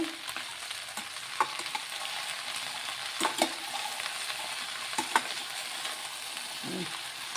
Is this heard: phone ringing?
no